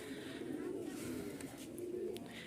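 Lahori pigeons coo softly at a pigeon market in Dhaka, with low, rolling calls repeating close by and faint market noise behind.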